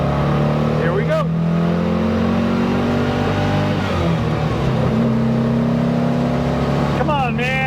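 Restored 1956 Porsche 356A coupe, converted to 12 volt, driving on a test lap with its engine droning steadily and rising in revs, loud and close throughout, with a person whooping and talking over it.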